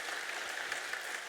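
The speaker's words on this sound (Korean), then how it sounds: "다시 한번 큰 박수 주시면 감사하겠습니다" Congregation applauding at a Sunday worship service honoring a youth group, a dense, even wash of many hands clapping, fairly distant and steady throughout.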